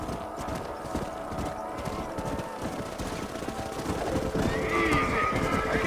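Horses clip-clopping in the video game Red Dead Redemption, steady hoofbeats close by with a whinny, under a dense game soundscape with faint distant gunfire.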